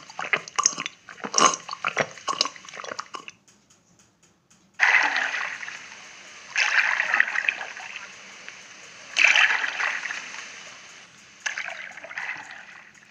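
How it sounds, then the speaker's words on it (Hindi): Drinking water, heard as wet sips and gulps with splashy, dripping sounds, close and moderately loud in several separate bursts with short gaps between them, with no voices. "पानी पीने की आवाज़"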